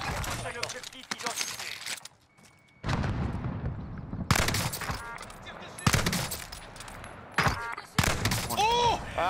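Gunfire in the online shooter Warzone: bursts of rapid automatic fire and single sharp shots, loud and close, broken by brief pauses, with players talking over the action.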